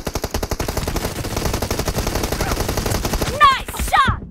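Gunfire in a video game team deathmatch, rapid automatic bursts hammering in a fast, even rhythm up close, joined near the end by shouted voice callouts.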